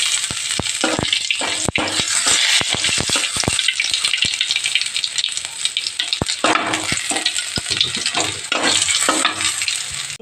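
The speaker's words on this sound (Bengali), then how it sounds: "জিরেটা একটু লাল লাল করে ভেজে নেব।" Cumin seeds fry in hot oil, a continuous bright sizzle and crackle with frequent sharp pops and utensil taps against the pan, close and loud with no talking.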